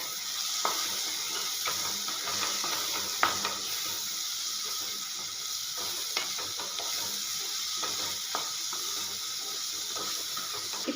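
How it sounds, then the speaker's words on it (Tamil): Fried turkey berries being stirred in a pan with tamarind, a soft continuous sizzle under repeated clicking scrapes of the spatula, close by. "நம்ம ஆல்ரெடி வதக்கி வச்ச சுண்டைக்காயை இதில் கிண்டி போட்டு ஒரு கிளறிக்கலாம்"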